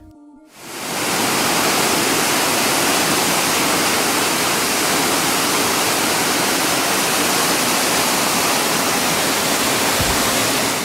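Eternal Flame Falls, a waterfall in Chestnut Ridge Park, New York, roars as a steady, loud broadband rush of falling water that fills the scene alone after a brief quiet start, with no voices.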